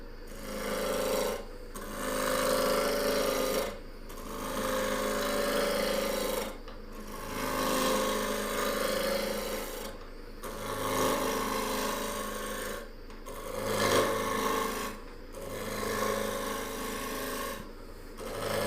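Wood lathe spinning an acacia coffee scoop blank at about 2,000 RPM, with a raspy scraping tool cutting in repeated passes of a few seconds, broken by brief pauses, close and moderately loud.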